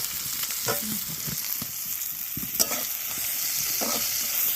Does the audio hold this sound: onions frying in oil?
yes